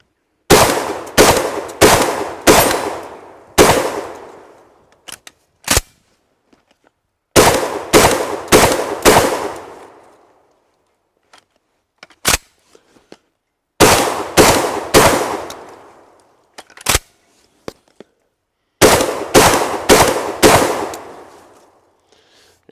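An SRM 1216 rotary magazine shotgun fired outdoors in loud bursts of four or five fast booming shots, separated by pauses and scattered single shots, with no talking.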